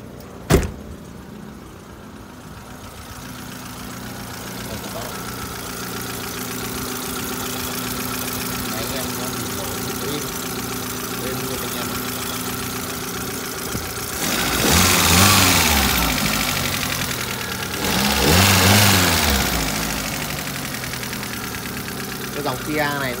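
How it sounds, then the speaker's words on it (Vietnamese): A 2012 Kia car's engine idles smoothly and steadily up close, with a sharp click at the start and two brief revs swelling and fading later; someone talks over it at times. "chúng ta sẽ ra ngoài nghe thấy động cơ các bác nhé. Cơ này rất êm luôn."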